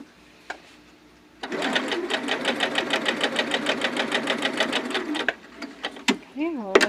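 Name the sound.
sewing machine sewing a 3.5 length stitch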